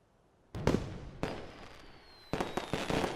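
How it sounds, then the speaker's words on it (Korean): Several bursts of fireworks crackle and boom at a distance, separated by short pauses, with one faint whistling streak between blasts. "어디서 불꽃놀이 하나 봐"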